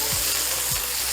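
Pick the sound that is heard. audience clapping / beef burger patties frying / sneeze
beef burger patties frying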